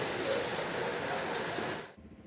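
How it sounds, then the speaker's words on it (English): Rain falling at a motorcycle race track: a steady broadband hiss of rainfall that cuts off abruptly near the end, leaving quiet background. "Unfortunately, just before race one, it started to rain."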